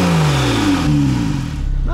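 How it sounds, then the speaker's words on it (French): A Porsche 911 991.2 GTS flat-six engine revs close by, its pitch sliding down as the revs fall, with a rising rev burst right at the end. "On entend bien le bruit du flat 6."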